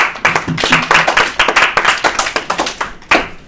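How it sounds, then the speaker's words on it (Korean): Classroom audience of junior reporters clapping for a presentation, close distinct hand claps in quick irregular bursts, loud and crisp with short gaps between volleys. "또 우리 박수 한번 치세요"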